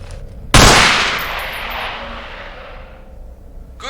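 A single loud gunshot from a weapon in the Underhell Half-Life 2 mod, sharp and close, with a long echoing reverb tail that fades over several seconds.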